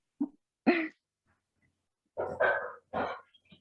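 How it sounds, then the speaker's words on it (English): A dog barks indoors in a few short, moderately close bursts, one early pair and then a cluster of three, separated by silence, with no talking. "Oops, sorry about the dog."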